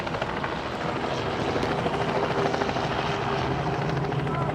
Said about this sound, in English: Another helicopter flying overhead.